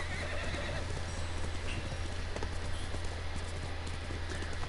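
A horse in the samurai video game Ghost of Tsushima whinnies and its hooves clop over a dense, steady game soundscape with a low rumbling bed, moderately loud throughout.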